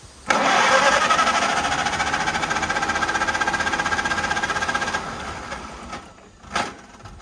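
An engine cranks over rapidly with a rhythmic chugging for several seconds without catching, then stops, followed by a brief knock.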